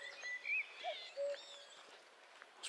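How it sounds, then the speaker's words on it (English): A cuckoo calls a few times, fairly close, on a countryside walk along the River Witham near Stixwould in Lincolnshire; short tonal notes stand alone against quiet outdoor ambience. "Hear that cuckoo?"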